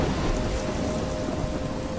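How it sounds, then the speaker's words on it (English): Thunderstorm with heavy rain in the video game Life is Strange, a steady loud downpour with low rumbling thunder underneath, continuous and close. "I'm trapped in a storm?"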